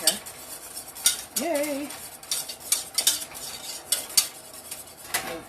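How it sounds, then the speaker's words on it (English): A spoon scrapes and clinks steadily against a pan while peach pudding boils on the stove, close and fairly quiet, with a brief cheerful voice near the start. "let me get this stirred here"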